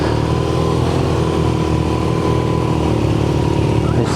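Engine of a 2023 BMW R Nine T Urban GS motorcycle running loud and close, a steady throaty drone throughout with no speech over it.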